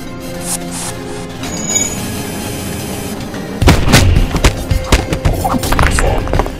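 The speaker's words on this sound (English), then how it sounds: "Firing missile." Missile launch in the spaceship game FTL with the Kestrel ship, a low rumbling whoosh followed by a burst of loud booming impacts and crackling blasts.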